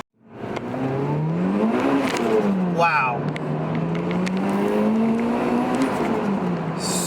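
A Toyota Celica GT-S Turbo with a TRD exhaust accelerates hard from inside the cabin, its engine tone rising and falling steadily under a brief excited exclamation.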